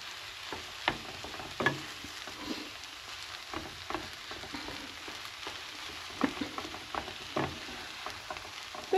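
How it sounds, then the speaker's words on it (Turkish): Food frying in a pan with a steady close sizzle and crackle, broken by scraping stirring strokes and occasional sharp pops and clatters of a utensil against the pan, heard alone without talk. "Böyle karıştırıyorum."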